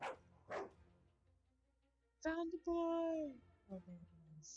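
Two sharp dog barks open a story-game scene, followed by a quiet pause and then a loud shouted voice.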